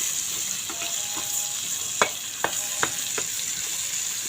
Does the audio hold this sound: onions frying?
yes